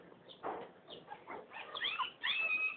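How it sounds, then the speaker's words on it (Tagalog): High, thin yips and whiny barks from a one-week-old puppy, several short bursts growing shriller toward the end, close by. "Siya lang yung maingay oh. Yung tumatahol."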